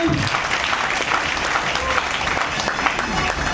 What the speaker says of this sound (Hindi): और ताली आनी चाहिए।